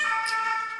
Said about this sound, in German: Wobei, das ist Krankenwagen, oder? Naja, irgendwas mit Blaulicht fährt vorbei.